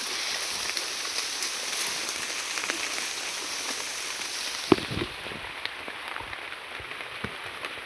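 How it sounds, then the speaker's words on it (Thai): Steady rain hissing down, dense and even, with occasional sharper drips and taps standing out from the wash. "ฝนตกพี่น้องเลย"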